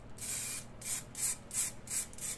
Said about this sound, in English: So some more layering spray again.